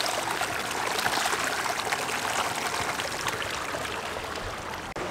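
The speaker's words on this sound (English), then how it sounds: "the water comes up to the spring there, they draw it down, it comes down here, and then it falls into these little pits" Hot spring water flows down and trickles into small pools, a steady close babbling stream with splashing texture, fairly quiet and continuous.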